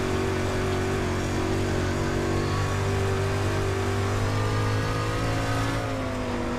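A street stock race car engine on the Eldora dirt oval in iRacing drones loud and steady, with a sustained high-revving tone that shifts slightly in pitch as the car runs laps, heard alone throughout.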